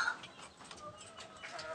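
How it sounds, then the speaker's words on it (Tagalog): Faint clucking of two sick chickens in the background, soft and intermittent against a quiet, steady ambience. "meron po akong dalawang manok dito"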